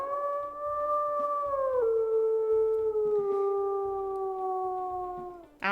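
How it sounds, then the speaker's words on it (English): A wolf in the video game WolfQuest lets out one long, sustained howl that slowly drops in pitch in a few steps, loud and clear over a faint ambient background, ending with a brief sharp sound. "let's go ahead and listen to the howls"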